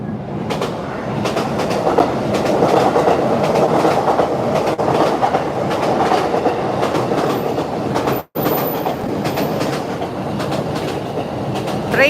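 A passing train in Valenzuela City, Metro Manila, produces a sustained rumble with rhythmic clickety-clack of wheels on rails, fairly loud and steady for about twelve seconds with a brief dropout near the end.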